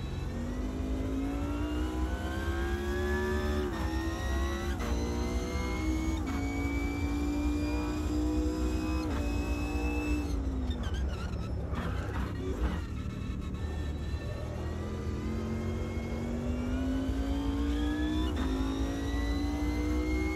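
A GT race car engine in the Automobilista 2 racing game revs up through repeated rising gear pulls, with brief shifts and a short drop in the middle before climbing again, steady and close.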